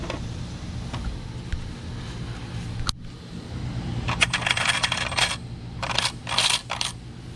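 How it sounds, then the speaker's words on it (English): Coins clatter and drop in bursts into a CC6100 coin changer, scattered metallic clinks giving way to dense rattling runs near the end, loud and close with no talking. "that is how we're gonna fill up the coin changer"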